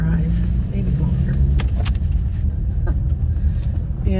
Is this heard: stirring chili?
no